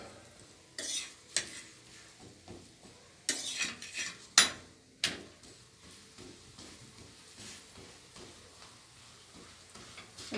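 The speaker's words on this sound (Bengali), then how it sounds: "এবার অল্প অল্প তেল দিয়ে এটাকে ভেজে নেব।" A vegetable paratha fries in a little oil on a pan, with a soft sizzle under sharp intermittent clacks and scrapes of a utensil turning and pressing it, louder at first and then settling.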